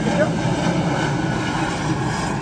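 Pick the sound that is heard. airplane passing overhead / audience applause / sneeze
airplane passing overhead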